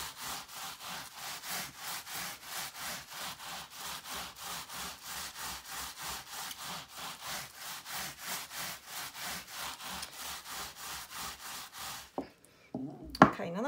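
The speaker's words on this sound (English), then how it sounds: "Let's also try this this tool, rubbing tool, which is a beautiful wooden object." A wooden rubbing tool worked back and forth over wet felt, giving a steady, fast rhythmic rasping at close range that stops abruptly near the end with a brief clatter.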